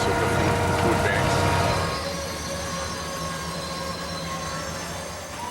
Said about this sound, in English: This is the Canadian Pacific Railway Holiday Train.